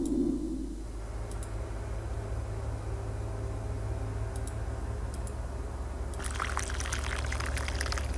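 Water pours into a coffee machine in the video game Raincliff, a quiet steady trickle throughout, with a few light ticks and a busier clattering burst near the end.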